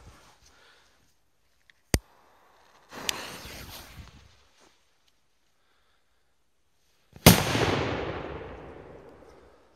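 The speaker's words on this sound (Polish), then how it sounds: "Od razu po flarze, nie ma tak, że flara gaśnie powoli, tylko od razu następuje wybuch." A TP2 Tropic firecracker: a sharp crack, then a hissing flare burst lasting about a second, and later a loud close explosion whose rumble decays over two seconds, with quiet gaps between.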